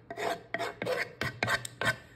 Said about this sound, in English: you can just scrape them right into the jar